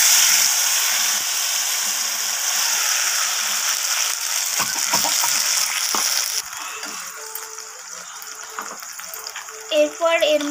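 A paste of tomato, capsicum and green chili hits hot oil in a pan with a loud, crackling sizzle that settles into softer bubbling frying with occasional clinks.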